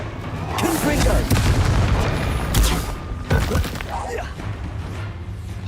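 Confringo blasting-curse explosions in Hogwarts Legacy, a dense run of loud booms and crackling blasts that pile up almost without pause. A voice is briefly heard between them.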